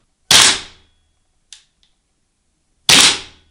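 A costly airsoft gun fires BBs, two loud sharp cracks about two and a half seconds apart with a small mechanical click between, close and otherwise silent.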